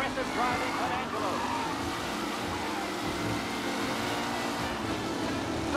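Race cars speeding around a track in Mafia Definitive Edition, a continuous roaring engine drone with shifting pitch and tire noise, while a voice talks over it.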